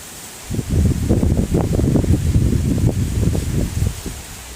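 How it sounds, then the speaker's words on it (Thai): Very strong wind ahead of a rainstorm buffets the microphone in heavy, rumbling gusts that swell in quickly and keep pounding close and loud before easing slightly at the end. "ตอนนี้ ลมแรงมากๆ ครับผม"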